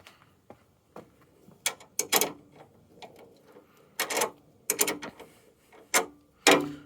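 A spanner works a 10mm nut on a 1994 Jaguar XJS V12 facelift: close metallic clicks and ratcheting bursts come in irregular spurts, with quiet pauses between turns and no talking.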